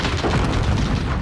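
Airstrike explosion in a first-person shooter, a deep rumbling boom that fills a brief moment, loud and heavy in the low end with a rolling tail.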